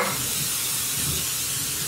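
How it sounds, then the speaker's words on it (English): A cooking spray hisses in a continuous burst, a steady airy spritz close by, with faint sizzling underneath. "So we're just going to go in with olive oil spray, because they're really dry."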